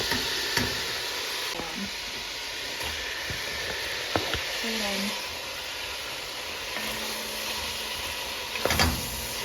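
Garlic frying in oil in a pan for dimlyama, a steady close sizzle running throughout with a few light scraping and stirring clacks.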